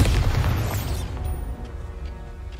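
Explosive spells go off in the Hogwarts Legacy video game, with a heavy booming blast at the start that rumbles and fades over a couple of seconds and no talk.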